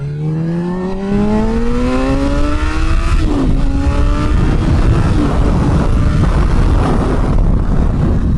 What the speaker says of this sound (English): the noises it makes, like, it's just that old school kind of leader bike noises